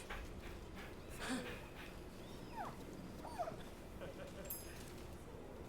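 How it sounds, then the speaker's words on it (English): A dog in an offline video game whimpers and yips in short, scattered sounds, quiet under a faint game soundscape, while a person talks over it. "I like that they spawn dogs even when you're playing offline."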